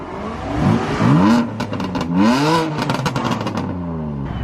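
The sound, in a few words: BMW car revving with new exhaust setup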